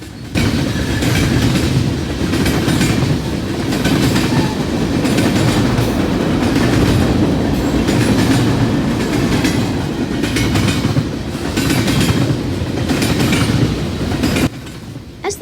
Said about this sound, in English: As the R.J. Corman hoppers begin to pass right about now